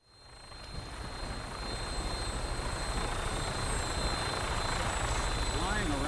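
Steady, rising roar of a Vertibird aircraft flying in Fallout 4, with rotor and engine noise building from silence to a sustained loud drone.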